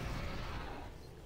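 Rocket launcher fire in Doom 3, a dense, loud low-end rumble of blasts and explosions running steadily through the moment, then easing slightly toward the end, with no talk over it.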